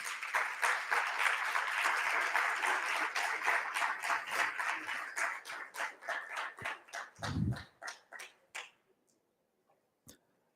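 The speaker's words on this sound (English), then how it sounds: "Please give her a big round of applause" Audience applause for a guest at a speaking event, a dense round of clapping that thins into scattered individual claps and fades out, with a brief low voice thump near the end.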